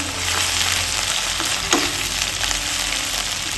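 Green chili paste sizzles hard in a frying pan with a spicy boal fish curry. A steady, loud frying hiss with stirring scrapes runs throughout, with a brief clatter midway.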